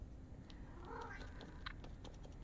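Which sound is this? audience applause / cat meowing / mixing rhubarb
cat meowing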